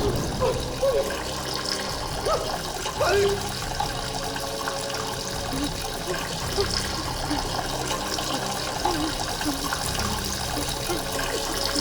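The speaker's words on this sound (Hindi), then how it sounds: "पानी बंद करो।" Water runs steadily from a tap with a constant rushing, splashing wash, loud and close for the whole stretch, with faint voices partly buried beneath it.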